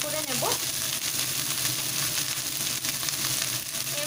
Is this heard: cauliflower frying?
yes